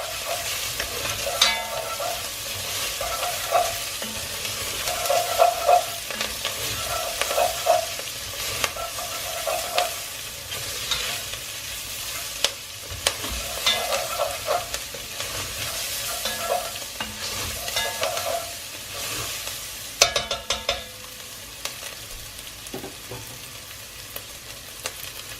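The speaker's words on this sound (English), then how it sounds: "I'm just going to give that a stir." Minced garlic and thyme sizzling in a pan for coq au vin, a steady frying hiss broken by repeated spoon-scraping stirs and clinks, close up with no talking.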